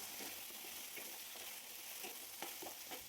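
Potatoes frying in a pan with ginger and garlic, a steady, fairly soft sizzle running throughout with scattered scrapes and clicks as the pieces are stirred.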